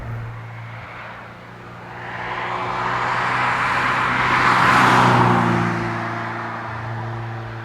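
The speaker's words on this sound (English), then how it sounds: "I will give the 944 points for having a better sounding engine." A Porsche 944 Turbo engine accelerates, its loud, rough exhaust note swelling to a peak around the middle before easing off, heard alone without talk.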